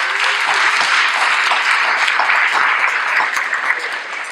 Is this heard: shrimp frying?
no